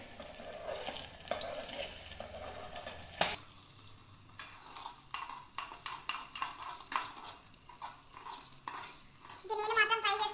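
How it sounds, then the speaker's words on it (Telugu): Food frying in a pan is stirred with a utensil, the soft sizzle beneath repeated scraping strokes and clinks in an uneven rhythm, close and moderately loud with no talk. "కింద కొంచెం కుక్ అవ్వగానే మనం కలుపుకోవాలి గైస్"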